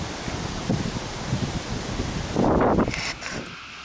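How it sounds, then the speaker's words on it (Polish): Steady wind rushes across the microphone, with a stronger, louder gust swelling in the middle before easing off again. "A i tak pewnie będzie słychać trochę wiatru."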